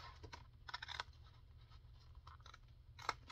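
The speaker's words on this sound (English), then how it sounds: "I'm going to cut on the inside of it, of the score line." Scissors snip paper ephemera along a score line for a junk journal, giving quiet, intermittent crisp cuts and scrapes in short bursts with pauses between, close up and faint.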